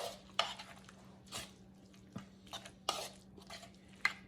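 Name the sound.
stirring salmon patty mixture with onion and crackers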